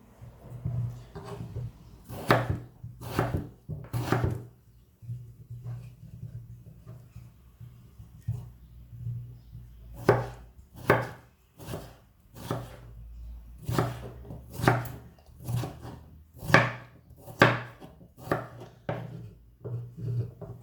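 A knife chops potatoes sharply against a cutting board in irregular bursts of quick strokes, close by, with short pauses between runs.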